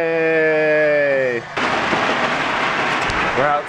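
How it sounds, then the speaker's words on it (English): New Year fireworks going off outside produce a loud, sustained crackling barrage with sharp bangs, following a cheering voice at the start and a brief shout near the end. "We're outside listening to the fireworks go off."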